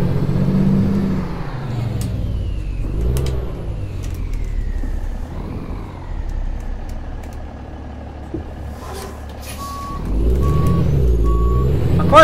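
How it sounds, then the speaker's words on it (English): A heavy truck engine in American Truck Simulator rumbles and revs steadily, rising and falling in pitch, with a short run of reversing beeps near the end. "I like the sound of this new engine."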